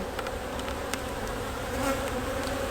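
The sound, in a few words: agitated honeybees buzzing around beekeeper's hand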